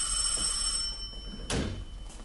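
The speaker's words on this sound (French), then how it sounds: "Mais c'est le téléphone, mon cher." A telephone bell rings once in a quiet room, a short loud burst near the middle of the clip, with a faint steady tone in the background before it.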